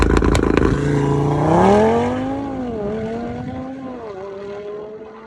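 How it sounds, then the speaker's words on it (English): Nissan Skyline R32 with a stage 2 turbo setup revs hard with a sharp crack at the start, then its engine note climbs and falls through several gear changes, loud and close, with no talking. "Really quick car, sounds amazing."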